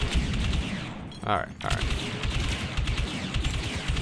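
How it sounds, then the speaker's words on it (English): Gunfire and explosions from the Star Wars Battlefront video game rattle steadily across the whole stretch, with a brief burst in the middle, while someone speaks over the game sounds. "We used to hear gunfighting and explosion."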